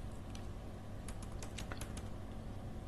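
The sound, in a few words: typing on a computer keyboard to enter a column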